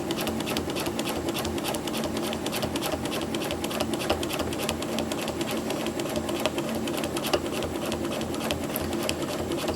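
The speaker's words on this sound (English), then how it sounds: "That is the TopAnchor Tools Baptist fan template on a stationary machine." A stationary sewing machine quilts with a TopAnchor Tools Baptist fan longarm ruler template, producing a steady, rapid mechanical stitching chatter that runs close and unbroken throughout.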